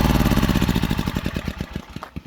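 A Honda EX1000 generator engine with a carburetor problem runs with a rapid, loud chugging pulse that slows and fades as it shuts down, sputtering to a stop.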